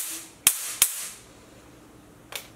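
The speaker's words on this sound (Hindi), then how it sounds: "देखिए हमारे घर में अभी पटाखा फूट रहा है" Diwali firecrackers burst at a house: two sharp cracks in quick succession, then a softer third pop after a pause, each with a brief fizzing tail.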